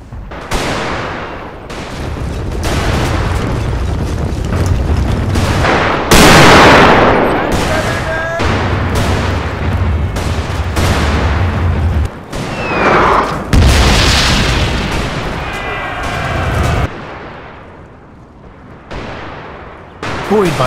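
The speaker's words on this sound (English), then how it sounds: "the British infantry opened fire" British infantry rifle volleys fire against charging Zulus in a Total War battle at Kambula. The gunfire is dense, repeated and booming, with loud cracks layered over a constant battle roar for the whole stretch.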